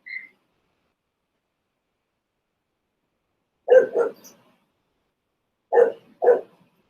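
A pet dog barks angrily indoors, giving two separate double-bark bursts that stand out clearly against near silence, with a brief faint tone at the very start.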